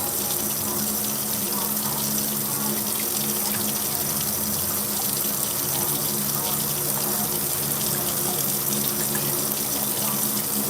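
Tap water runs steadily into a sink while vegetables for chicken soup are rinsed, a continuous loud gushing and splashing with no voices over it.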